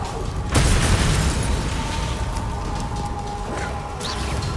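An Expelliarmus spell strikes during a duel in Hogwarts Legacy with a sudden booming burst. A rumbling, crackling magical wash follows and lingers at a steady loudness.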